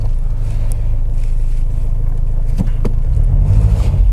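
A Ford Ranger Raptor pickup with off-road suspension rumbles along at low speed on an off-road course near a steep slope, giving a steady, loud, close engine drone with a slight rise near the end and no talking.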